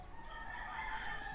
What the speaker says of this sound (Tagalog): nakarinig na kami ng tilaok ng manok